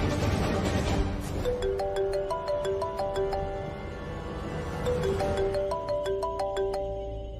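A mobile phone ringtone plays a bright repeating melody of electronic tones over a low background hum, two clear phrases in a row with no voices.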